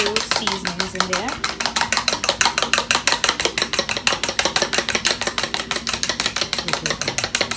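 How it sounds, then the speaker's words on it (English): Eggs being beaten with seasonings in a bowl, a fast, even series of sharp whisking clacks repeating steadily throughout, close and fairly loud. "And then beat the eggs"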